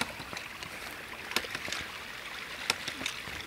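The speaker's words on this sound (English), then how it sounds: "with this little brook down in the gully." A small brook trickles down a gully about ten feet deep, a faint, steady watery rush with soft gurgles and occasional light splashes.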